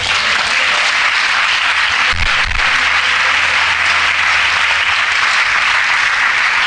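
Loud, sustained applause from a large church congregation, dense and even throughout, with a brief low thump partway through.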